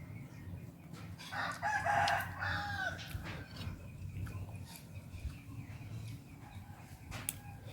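A rooster crows in the distance in a backyard garden, a drawn-out call early on, over steady low background noise and occasional faint clucks.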